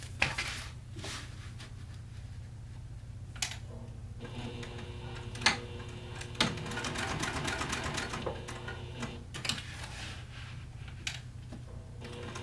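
A sewing machine stitches a fabric bag, a steady mechanical whir with low hum and irregular clicks and ticks, close and moderately loud, with no talking.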